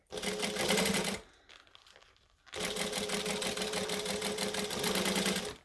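Sewing machine stitching a wallet, running in a steady rapid burst, pausing briefly for a quieter moment, then stitching steadily again, close and clear.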